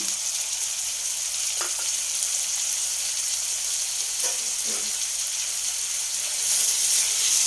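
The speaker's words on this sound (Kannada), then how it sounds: "ಫಸ್ಟ್ ಈರುಳ್ಳಿ ಹಾಕಿ ಬಾಡಿಸ್ಕೊಳ್ಳೋಣ" Onions frying in hot oil in a pan while boiled egg rice is made, a continuous close hiss and sizzle with a few soft stirring scrapes, steady throughout.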